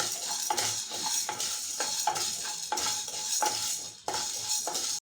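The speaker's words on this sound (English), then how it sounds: "First, we have to take Channa Dal and roast it for a minute." Chana dal dry-roasts in a pan while a spatula stirs and scrapes it in a steady rhythm of repeated strokes, with a faint crackle underneath.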